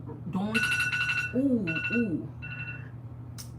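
An alarm rings with repeated bright electronic tones in short bursts, close and fairly loud, while a person talks over it.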